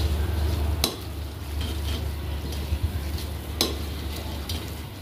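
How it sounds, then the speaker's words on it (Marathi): Masala spices being stirred and sautéed in a hot pan for spicy shev bhaji, a steady close sizzle broken by a few sharp clicks of a spoon against the pan. "हे बघा परतलेला आहे आता मसाला पण आपला"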